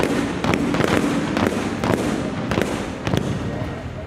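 Artillery cannons fire during a French Army capabilities demonstration, a series of sharp distant booms in irregular succession over a continuous outdoor rumble.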